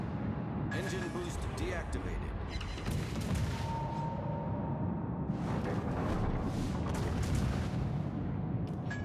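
Naval artillery fire in a video game: heavy booming salvos and rumbling blasts over a dense, noisy battle bed, with spoken voices running throughout.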